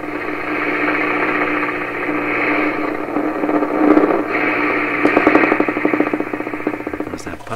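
A 1928 RCA Victor Model 28V radio gives off a steady, loud buzzing hum, and a rapid putt-putt pulsing shows up in the second half.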